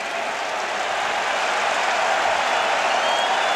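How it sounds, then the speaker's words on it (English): Stadium crowd at a college football game, Northern Illinois at Michigan, roaring in a sustained ovation: a dense, steady wash of cheering and applause that fills the whole stretch without a break. "Hear the ovation from the crowd."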